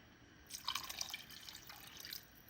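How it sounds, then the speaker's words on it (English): Water is poured into a pot of chili, a very faint, close trickling and splashing that starts abruptly and runs steadily to the end. "And to this, I'm going to add about 2 cups of water."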